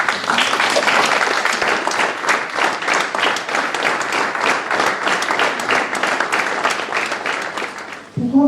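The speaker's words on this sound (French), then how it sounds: "Nous allons donc nous lever pour une minute d'applaudissement en son honneur." A club's general-assembly audience rises and applauds in tribute to a late president: dense, sustained clapping from a large crowd, loud and steady throughout, tapering briefly at the very end.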